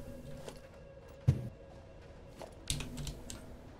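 Quiet typing on a computer keyboard during a game session, a few soft key taps with two sharper clacks against a low background hum.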